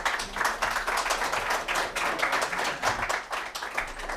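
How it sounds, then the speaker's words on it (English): An audience gives a round of applause for an embassy first secretary after a talk, a steady run of moderately close hand claps that continues unbroken for several seconds. "please give a round of applause for him"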